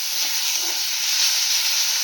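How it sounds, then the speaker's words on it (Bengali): Spinach frying in a pan in a village kitchen, giving a steady, close hiss and sizzle that stays even throughout, with no talking. "পালং শাক ভাজা হচ্ছে।"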